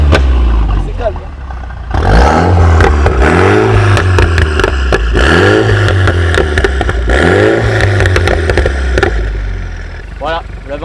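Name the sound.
Mini Cooper S F56 revving, exhaust pops in sport mode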